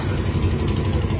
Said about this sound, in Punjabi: ਮੋਟਰਸਾਈਕਲ